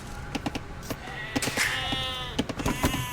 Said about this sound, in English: And the sheep.